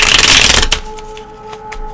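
A deck of tarot cards riffled in a quick shuffle, a dense burst of close, crisp card flutter for under a second followed by a few soft taps as the deck settles, with no one talking.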